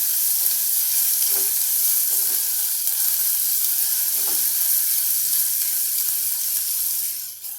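Moong dal being stirred into dill greens frying with onion in a pan, a steady close sizzle broken by a few soft scraping stirs, continuous and fairly loud with no voices.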